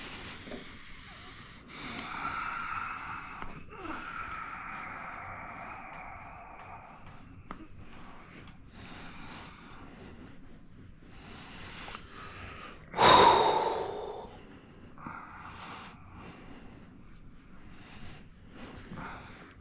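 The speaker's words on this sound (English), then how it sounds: "Big breath." Deep breathing from a person receiving a face, head and neck massage in St. Louis: soft, steady breaths in a quiet room, then one sharp, loud gasp-like inhale that fades into quieter breathing.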